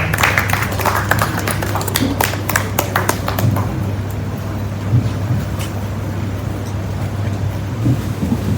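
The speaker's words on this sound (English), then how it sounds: "Please, another round of applause for Mark." A round of applause for a speaker at an International Women's Day 2022 event: dense clapping that is strongest at first and then thins out over a steady low hum.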